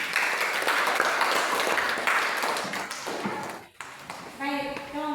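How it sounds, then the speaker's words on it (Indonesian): Classroom applause for a group that has just presented integer addition, a burst of clapping lasting about three seconds before it fades, followed by a short ringing tone. "Kita beri aplaus dulu untuk mereka."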